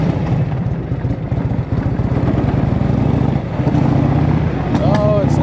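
A 1984 Harley motorcycle engine that has sat unused for 20 years chugs loudly and close by in uneven, sputtering pulses as it struggles to keep running, with a voice briefly heard over it.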